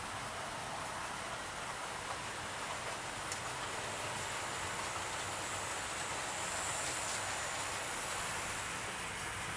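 A steady rushing, rattling rumble of a Thomas & Friends toy train engine, Percy, running along a track, continuous and fairly loud with no voices.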